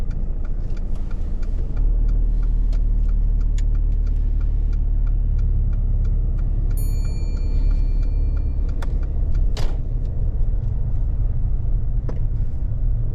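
A car pulling away at the start of a driving lesson, with a steady low engine rumble and road noise running throughout, close and fairly loud, plus a few faint clicks and a brief higher tone.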